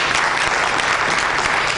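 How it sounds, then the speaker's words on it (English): A library audience gives April Silva a round of applause, a dense, even wash of clapping from many hands, close and sustained throughout. "give this sister a round of applause if you would"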